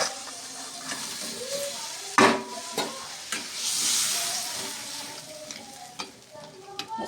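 Water and crab pieces going into a pan of fried masala, bursts of sizzling and steam hiss with spoon stirring and clanks against the pot, close up, no clear speech.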